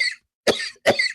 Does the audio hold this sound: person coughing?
yes